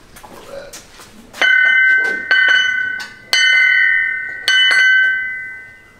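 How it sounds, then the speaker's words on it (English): A loud doorbell chime plays several bright, sustained bell tones in sequence, each note overlapping and slowly fading, close by. "I figured that was a doorbell"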